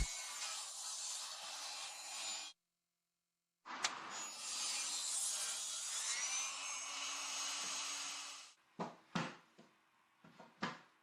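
A power saw whines steadily through wooden floorboards in two long cuts separated by a brief pause, followed by several short bursts of cutting.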